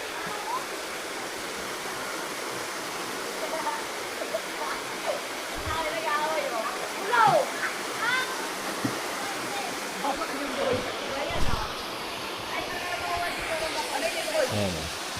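Water from a natural spring in Barangay Bitin Bay, Laguna pours in a steady broadband rush, close and continuous, with soft splashes and occasional people talking faintly underneath.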